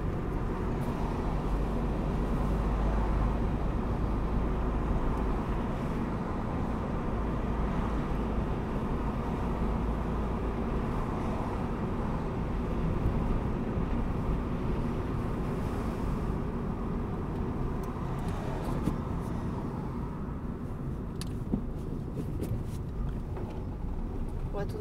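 A car accelerating while merging onto an expressway, with a steady engine and road roar throughout and a driving instructor and learner talking over it.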